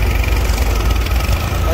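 Tractor engine running at about 1200 RPM out in a field, a loud, steady low drone that holds unbroken right up close.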